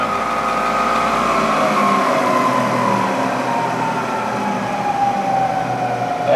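A Bridgeport Series 1 2hp milling machine spindle runs at 3,300 RPM, giving a steady mechanical hum with a high sustained whine that drifts slightly in pitch, continuous and fairly loud with no talking.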